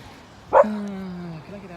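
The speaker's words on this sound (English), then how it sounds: "These dogs are beautiful." A single short dog yip or bark rings out near and clear, followed by a brief trailing whine-like tone, over quiet background.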